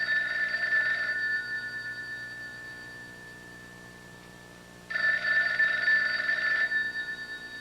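A telephone rings indoors with two long electronic trills about four seconds apart, each lasting just over a second, moderately loud against a quiet background.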